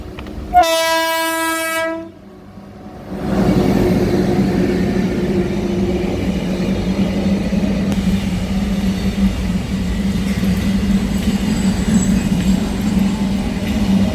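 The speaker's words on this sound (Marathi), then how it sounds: "मालगाडी आहे." A goods train on the railway line near Khopoli, heralded by a loud horn blast, then the heavy, steady rumble and rolling clatter of the wagons passing close by for a long stretch.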